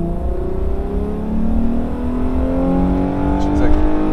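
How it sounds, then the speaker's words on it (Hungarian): A Dodge car accelerates hard during an evening cruise, its engine note climbing in a steady rising whine and rumble heard from inside the cabin, loud and close, with speech over it. "Gyorsuljunk egyet?"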